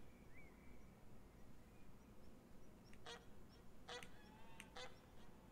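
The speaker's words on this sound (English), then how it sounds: "there goes some geese" Geese honk in theHunter: Call of the Wild, a few short bursts of honking in the middle of the clip against a steady wash of outdoor ambience, moderately distant and faint.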